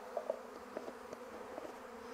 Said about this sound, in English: So we got lots of bees here in our tub.